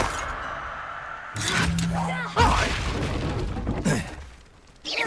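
A Confringo fire spell blasts in Hogwarts Legacy, a sudden loud booming burst mid-clip followed by crackling and rumbling, with game voices speaking around it.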